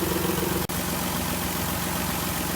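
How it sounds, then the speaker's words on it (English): A car engine idles after an oil additive treatment, a steady, even low rumble with a constant drone and one brief dropout near the start. "I'm going to let it sit here and idle for 15 minutes before I turn it off"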